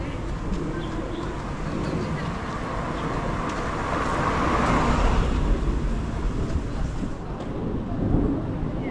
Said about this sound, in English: We have to be careful with this traffic right here.